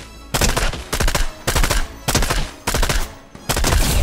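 Rapid automatic gunfire from a shooter video game plays in loud, close bursts of repeated shots with brief gaps between volleys.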